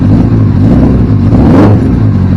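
A cold 2001 Suzuki Bandit 600 motorcycle engine with the choke on runs loud and close, its steady mid-pitched drone swelling briefly in one rev and easing back, heard alone without talk.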